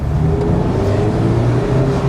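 Mazda MX-5 RF roadster, a 132-horsepower car, pulling hard under acceleration, with a steady, loud engine drone and slowly rising pitch throughout.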